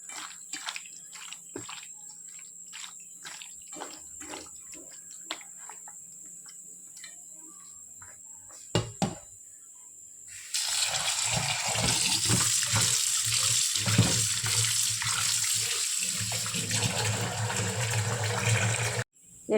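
Prawns coated in turmeric and salt being washed in water, a few seconds of quiet handling clicks and a brief splash, then a steady loud rush of running tap water with sloshing over the last half.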